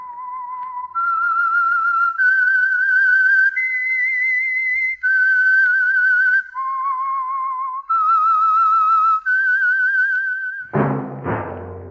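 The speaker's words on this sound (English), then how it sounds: "That whistle is your signal for the Signal Oil Program, The Whistler." A clear whistled theme signal for The Whistler, an old-time mystery radio program, with a solo melody of sustained notes stepping up and down for about ten seconds before a brief orchestral sting at the end.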